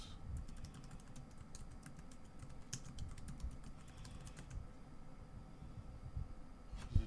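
Typing on a Rapoo 9000M Bluetooth keyboard, a quiet run of light, quick key clicks in uneven bursts that thin out toward the end.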